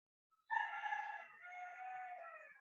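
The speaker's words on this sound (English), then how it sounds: "It's a rooster." A rooster crows once in a single drawn-out call that starts abruptly and trails off, heard alone against silence and moderately distant.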